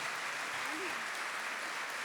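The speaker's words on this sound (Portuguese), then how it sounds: "Pode aplaudir, gente." A church congregation claps together in a dense, even burst of applause lasting a couple of seconds, with a brief voice rising faintly under it.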